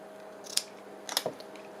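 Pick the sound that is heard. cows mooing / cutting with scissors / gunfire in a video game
cutting with scissors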